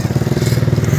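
A motorcycle engine idling close by, a rapid steady low putter of even pulses lasting about a second.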